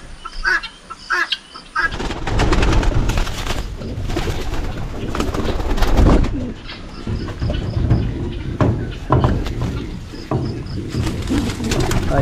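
Pigeons coo close by as one is caught with a fish net, a steady low cooing repeated throughout amid rustling and handling noise, with a distant train rumbling in the background.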